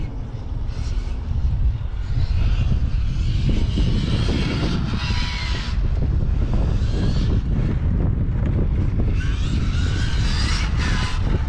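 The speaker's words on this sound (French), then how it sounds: "Il pousse hein, le moteur là, le 800 là." An ultralight aircraft with an 800 engine pulls hard on its first flight after assembly, a loud, steady engine roar mixed with heavy wind rush that never lets up.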